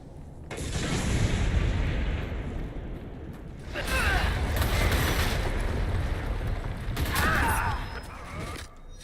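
Explosions in the video game Dragon Age: Inquisition, heavy rumbling blasts in several broad bursts with crackling debris, loud and close, separated by short lulls.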